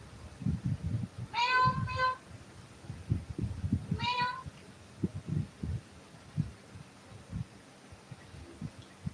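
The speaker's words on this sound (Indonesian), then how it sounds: "Kucing. Meow." A cat gives two clear meows in quick succession, then a third a couple of seconds later, heard over low murmuring voices and background rustle in a busy shop setting.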